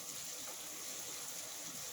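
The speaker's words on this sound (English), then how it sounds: "put about 3 tablespoons more water in there" Water being poured into a pot of coconut rice and peas, heard as a faint, steady hiss and gush that holds for about two seconds, with no one speaking.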